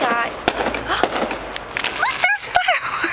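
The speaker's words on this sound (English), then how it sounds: "Look, there's fireworks." Fireworks going off during a daytime outing, heard as several sharp, loud cracks and pops spread through the moment, with voices talking over and between the bursts.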